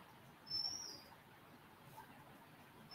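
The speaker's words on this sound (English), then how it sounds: "It might be actually the chirping of a bird." One small bird gives a brief high chirp in the distance over a faint room hum, then the room goes quiet.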